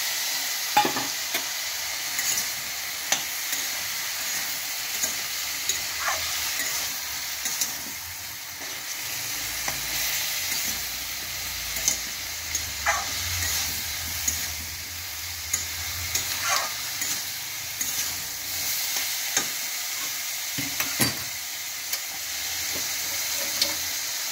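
Boiled chicken stirred into a hot pot for soup, a continuous sizzling hiss with frequent scraping knocks of a utensil against the pot throughout.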